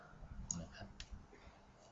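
A computer mouse clicking close by, a few light, sharp clicks heard quietly over faint background noise.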